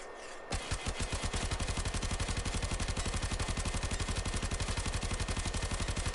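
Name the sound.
Tenora gun firing bullets in video game Warframe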